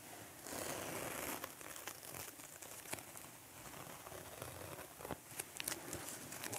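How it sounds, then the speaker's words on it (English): Masking tape is peeled off a painting of the Kaaba, giving quiet close crinkling and tearing rustles in uneven bursts with soft scratchy patter and no talking. "now we will pull out our masking tape"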